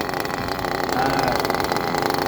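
A small nitro engine idles steadily during break-in, a close, buzzy, continuous drone at constant pitch with a faint vibration running under it.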